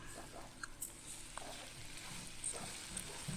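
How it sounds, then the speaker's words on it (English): Assam Pedas spice paste with kerisek stir fries over medium-low heat, a faint soft sizzle with scattered light scrapes and stirring taps, quiet and close, with no talking. "So you just have to stir fry to mix everything nicely."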